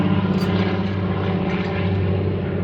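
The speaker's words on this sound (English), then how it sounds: "let that airplane fly by" A fixed-wing propeller airplane passes overhead as a steady, loud engine drone, rumbling low with no one speaking.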